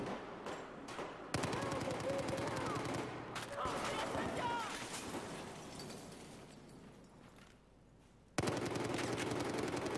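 Bursts of automatic gunfire in Battlefield 4 multiplayer, loud rapid rattles that stop and restart, with a quieter stretch of distant shots and rumble in the middle.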